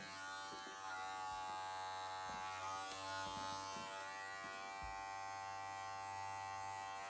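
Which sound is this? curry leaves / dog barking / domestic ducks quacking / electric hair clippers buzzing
electric hair clippers buzzing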